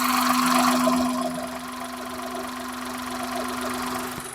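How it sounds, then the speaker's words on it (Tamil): A Hyundai Eon's small engine idles close to the microphone, a steady mechanical hum with a constant tonal drone and light ticking, holding fairly even throughout with no talk. "நீங்கள் தாராளமாக வண்டியோட இன்ஜின் நாய்ஸ் நீங்கள் கண்டிப்பாக கேட்கலாம்"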